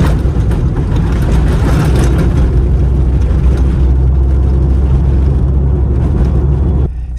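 Steady loud rumble of road and engine noise inside a car cabin after a KILMAT sound-deadening mat install, a constant low drone with a faint whir that drops off abruptly near the end.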